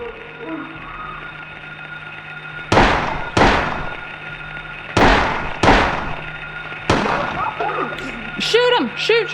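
Gunshots in the horror video game Silent Hill, five or six loud, booming shots spaced about a second apart with ringing tails, over a low droning background, followed by eerie wavering game sounds.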